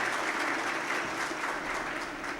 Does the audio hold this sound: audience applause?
yes